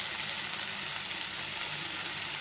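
Potatoes frying in a pan for an aloo methi dish, a steady, dense sizzle with a soft hiss that stays even and close throughout, with no voices.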